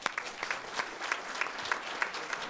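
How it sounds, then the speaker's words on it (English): An audience at a city council meeting claps in a brief, steady round of applause from a modest crowd, close and even throughout. "So let's do a round of applause."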